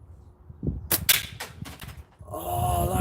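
A slingshot drawn with light exercise bands releases a shot during casual target plinking. Several sharp, close snaps follow in quick succession, then a softer rustling noise trails off.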